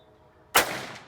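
A single sharp, loud crack from a Ruger SFAR 6.5 Creedmoor rifle rings out after half a second of near silence, with a short decaying tail.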